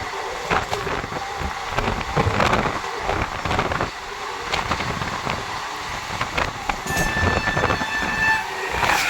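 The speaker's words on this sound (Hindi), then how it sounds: "तो अपनी बहुत जल्दी क्रॉसिंग होने वाली है स्पेशल ट्रेन के साथ, जो पाटलिपुत्र आनंद विहार के बीच चलती है।" A Patliputra–Anand Vihar special train passes during a crossing with a loud, continuous rumble of rolling wagons and clattering wheels, and a horn sounds near the end.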